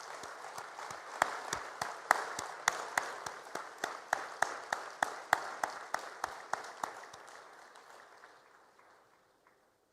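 At the 2024 African Development Bank Annual Meetings opening in Nairobi, a standing audience applauds the President with rhythmic, unison clapping that holds a steady beat, then slows and fades to silence, fairly faint and distant.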